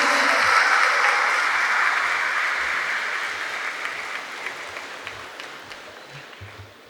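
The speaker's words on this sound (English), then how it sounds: "A big round of applause, ladies and gentlemen." Sustained audience applause in a hall at a bank officers' triennial conference, loud at first and gradually thinning and fading across several seconds.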